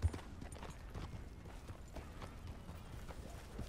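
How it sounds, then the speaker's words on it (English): Horse hooves clip-clop at a steady trotting rhythm in Red Dead Redemption 2, quiet and fairly close, with no speech over them. "I ride by on my horse"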